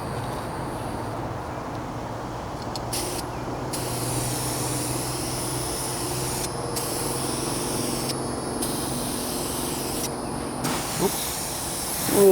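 A rattle can spraying paint onto the trunk and rear bumper of a 1998 Toyota Corolla, heard as a continuous close hiss that holds steady across the whole stretch, briefly interrupted by short gaps.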